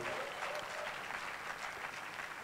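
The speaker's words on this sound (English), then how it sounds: "give her a rousing round of applause as she takes her seat" A leadership conference crowd applauds as a guest takes her seat, a continuous, fairly distant wash of many hands clapping with no break across the short stretch.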